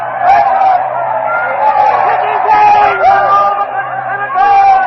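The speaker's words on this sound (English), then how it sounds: "The crowd is in a frenzy." A frenzied Roman crowd in a radio drama roars in a dense, continuous babble of many excited voices, loud and close, rising and falling in waves with shouts breaking through.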